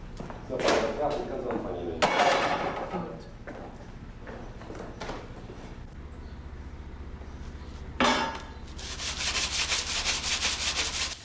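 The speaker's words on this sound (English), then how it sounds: "the refinement of the blank by sanding to brighten the metal" Sanding a copper sheet blank by hand in a traditional German metalworking shop gives short rasping strokes that come in bursts, separated by quieter gaps and a low steady hum, with a longer hissing stretch at the end.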